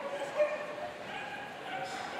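Beagle barking during an agility run at a dog agility competition, faint yips and vocalizing in a reverberant hall with crowd noise and commentary.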